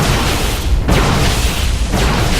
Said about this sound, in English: A firework came out of that factory when it died